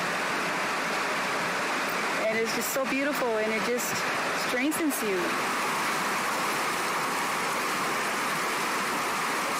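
A river off Rancheria Road near Bakersfield rushes in a steady, even wash of water noise that runs the whole time, while someone speaks briefly over it partway through.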